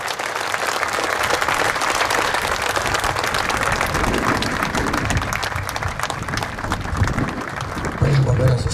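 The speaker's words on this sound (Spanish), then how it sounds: "Aplauso para nuestro Señor Jesucristo, que ha hecho volver a su iglesia a estas hermanas." A church congregation applauds together in sustained, dense clapping that fills the whole stretch, loud and close, with crowd murmur beneath and a brief louder swell near the end.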